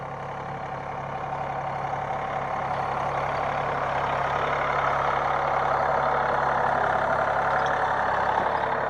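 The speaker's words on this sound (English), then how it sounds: "It sure makes it a lot easier for us with this large property to use the front end loader on the tractor." A tractor with a front end loader runs on a large property, its engine a steady mid-pitched rumble that swells slightly louder after the first second and then holds even, with no voices.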